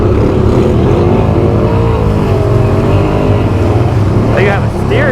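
Engine of an 850-swapped 2020 Can-Am Outlander XMR ATV revving hard and bouncing against the rev limiter, a loud continuous drone close up that wavers in pitch throughout.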